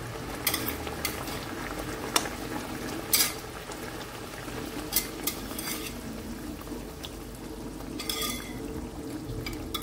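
Water at a rolling boil in a pot as fish pieces are slipped in, a steady bubbling hiss with a few scattered clinks of utensil against the pot, close and moderately loud, no voices.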